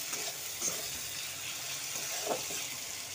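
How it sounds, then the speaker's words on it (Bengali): Tomatoes and onions fry in a pan with salt sprinkled on, a soft continuous sizzle broken by a couple of brief scraping stirs, fairly quiet and close with no talking. "ওই টমেটো পেঁয়াজগুলো ভাজতে ভাজতে আমি একটু লবণ ছড়িয়ে দেবো উপর থেকে"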